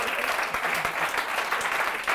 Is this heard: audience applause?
yes